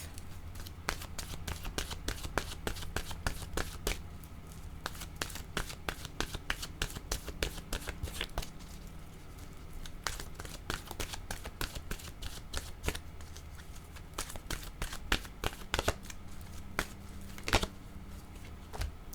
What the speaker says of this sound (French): je vais demander une carte de mon oracle de l'âme intuitive